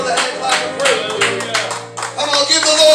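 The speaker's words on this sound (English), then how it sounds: "Come on, give the Lord a hand clap and pray." A church congregation clapping their hands in praise during a worship service, with many overlapping claps forming a dense, lively wash alongside music and voices.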